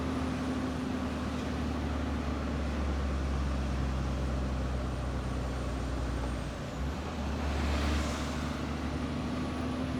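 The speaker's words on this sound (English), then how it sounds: "I think that's my mate's bread truck." A bread truck drives past on a road, with a steady low truck rumble throughout, a brief dip and then a hiss like an air brake near the end, at moderate distance and with no talking.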